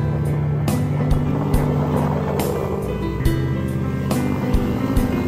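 An off-road vehicle's engine drones loud and steady during an off-road event in Leles, Garut, with repeated throttle blips and bumps rising over the continuous rumble.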